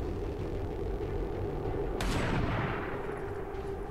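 Soldier firing a single shot in the XCOM 2 video game, one sharp loud crack with a rumbling decay over a steady background hum of music and ambience.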